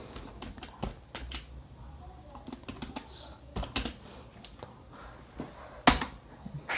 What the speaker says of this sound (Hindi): इसको टाइप करने के बाद एंटर करेंगे।